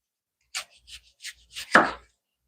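Knife slicing an onion into thin slices on a cutting board: a few quick, crisp chops in an uneven rhythm, close and clear, ending with one heavier cut.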